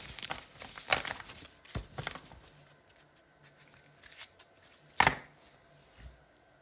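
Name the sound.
shuffling a deck of cards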